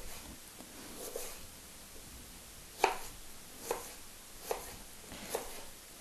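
Knife chopping ginger into thin strips on a board, a few sharp cuts spaced roughly a second apart over a faint background, with no talking.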